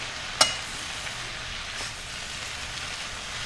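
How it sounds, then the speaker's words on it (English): Food stir-fried in a wok over medium heat, giving a steady, even sizzle that holds throughout, with one sharp clack of a utensil near the start and a faint scrape later. "I'm just going to toss it in the wok"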